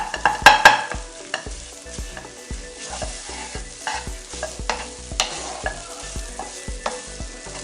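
Egg noodles are stir-fried in a pan, with a frying sizzle beneath rhythmic scraping and clanking strokes of a utensil that repeat through the clip, louder at the start.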